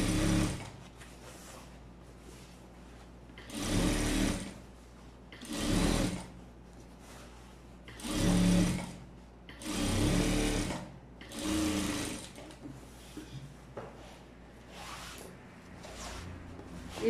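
An electric sewing machine runs in several short, steady bursts while stitching the crotch seam of wide-leg trousers, with quiet pauses between runs and no talking.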